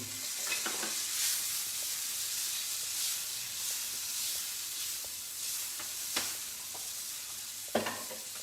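Broccoli goes into a hot pan already cooking red bell pepper and other vegetables, giving a steady, close sizzle and hiss with occasional clinks and stirring clatter.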